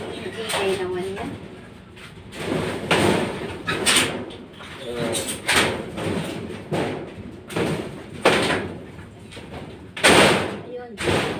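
A door being forced shut with effort, giving repeated thumps and bangs against the frame over several seconds, with people talking nearby throughout.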